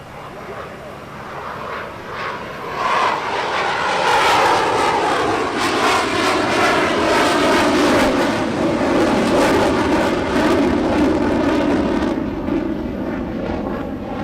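A fixed-wing aircraft makes a low-speed pass at just over 100 knots at the LIMA 2017 air show, its engine roar swelling loud and near, holding steady, then slowly easing with a shifting whoosh.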